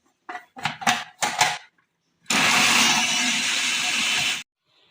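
A kitchen mixer grinder whirs steadily for about two seconds as it grinds bread into breadcrumbs. Just before it, a voice talks in short bursts, and the machine cuts off abruptly.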